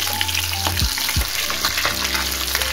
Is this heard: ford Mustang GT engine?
no